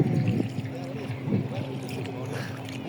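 Boat ride on the water at Chitlang, Nepal: a steady low hum and lapping wash run throughout with some wind, while people talk over it.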